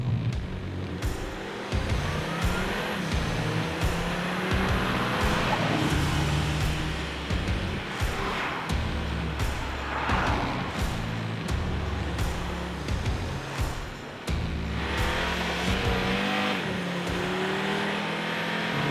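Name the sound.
Audi RS3 five-cylinder engine driving and revving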